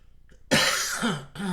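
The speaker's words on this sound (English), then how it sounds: "Trying to get rid of this cough here." A single harsh, loud cough bursts out close by, followed after a brief pause by a second raspy cough.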